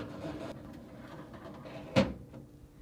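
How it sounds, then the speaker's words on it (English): A Whirlpool refrigerator drawer rolls along its rails on roller wheels and is pushed shut, ending in one close thud after quieter sliding sounds. "To install the drawer, insert the rear onto the rails with the roller wheels aligned and push closed."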